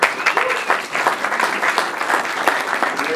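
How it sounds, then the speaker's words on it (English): A live audience at an industry talk breaks into loud, lively applause for a guest, with crisp, close clapping sustained evenly throughout. "clap your hands for John Nelson."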